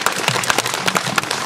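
Applause from an audience at a local talent showcase, honoring a young girl who designs and paints; steady clapping fills the short stretch, with no voices heard.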